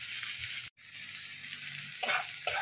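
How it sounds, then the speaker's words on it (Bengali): Onions frying in very hot oil in a pan for a fish curry with drumsticks, a steady close sizzle that cuts out briefly and returns with a couple of louder bursts as they are stirred. "পেঁয়াজটা ভালো করে ভেজেও নেব লাল করে"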